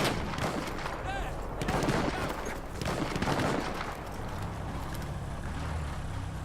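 Battlefield 1 combat, with dense gunfire and booming artillery blasts filling the mix as a continuous loud barrage, bursts layered over rumbling explosions throughout.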